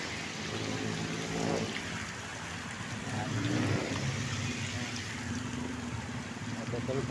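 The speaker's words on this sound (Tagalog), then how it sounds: "Bumubuhos ang ulan." Heavy rain pours steadily on a walk toward a bridge, a dense continuous hiss with a faint passing vehicle and a voice talking over it.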